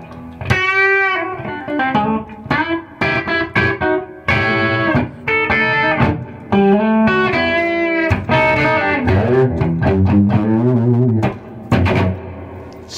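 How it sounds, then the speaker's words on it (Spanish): A guitar played through a reverb effect in a rehearsal room rings out in continuous melodic phrases of plucked notes whose tails linger and blend, loud and close with no talking. "La reverberancia hace que una guitarra o cualquier instrumento suene como si estuviese en un cuarto virtual."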